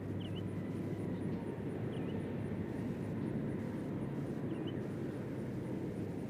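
A Frontier Airlines airliner arriving at Nashville International Airport, heard as a steady, distant broadband engine roar that holds evenly throughout with no voices.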